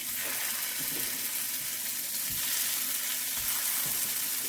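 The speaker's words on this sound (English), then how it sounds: "we're going to fry them" Chicken shami kababs fry in hot oil with a steady, dense sizzle and crackle that holds evenly throughout, close and fairly loud, with a few soft low bumps and no talking.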